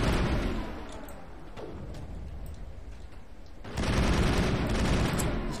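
Sustained gunfire in Mass Effect, a dense, noisy rattle of shots throughout, easing slightly in the middle before surging loud again.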